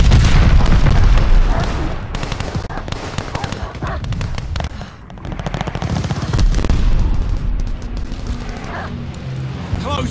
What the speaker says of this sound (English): I keep shooting.